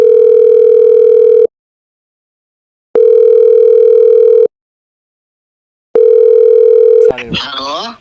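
A phone line gives a ringback tone, three long steady beeps separated by silent gaps, loud and clear, before a voice answers at the end.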